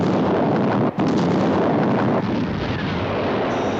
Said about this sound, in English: Our visual contact with explosion. Detonation positive.